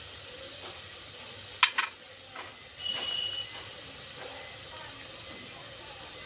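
Red chili powder and misal masala sizzling in oil for a spicy kat misal cooked over a wood-fired stove, a steady hiss with a couple of sharp metallic clinks and stirring scrapes, close and fairly even.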